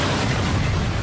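A car bomb going off in a parking lot, a dense, loud roaring blast filling the whole short stretch with broadband rumble and no pauses.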